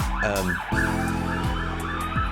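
A loud emergency siren wails close by, sweeping up and down in quick repeated cycles over constant traffic noise.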